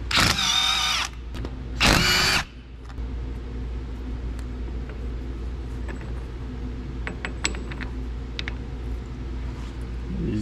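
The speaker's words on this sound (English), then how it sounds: "So I'll just need to undo these bolts here, flip them around, and then they'll clamp in on my piece." A power tool loosens the bolts on lathe chuck jaws in two loud, brief bursts of whirring. A low, steady mechanical hum from the lathe follows, with occasional small clicks and clanks.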